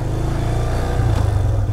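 A Hero Ignitor Techno 125 motorcycle running on octane fuel rides along an empty early-morning road. Its engine gives a steady, close, low drone with a slight rise partway through.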